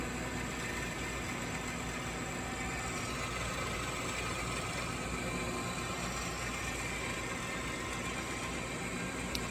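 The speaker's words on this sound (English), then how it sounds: "It's a lot of weight that that motor's spinning." Motor of a small backyard honey extractor spinning loaded frames at top speed, giving a steady, dense whir and hum that runs unchanged throughout without any talk.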